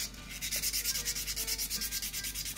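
Sandpaper rubbed back and forth over a small handmade piece, a steady rhythmic scratching of about a dozen even strokes, close and alone with no talk.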